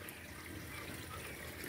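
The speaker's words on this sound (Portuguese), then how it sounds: "A água que sobra lá de cima escorre aí, ó." Water pours steadily from the first of several large taps at a roadside mineral spring fountain in Laguna, Santa Catarina, a constant broadband rush with no pauses, close and fairly loud.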